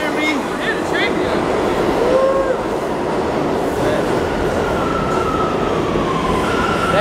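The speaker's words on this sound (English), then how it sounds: "Hear the train go." A New York City subway train passes through a station with a loud, sustained rumble and rail roar, joined by squealing wheel and brake tones that rise and fade over several seconds.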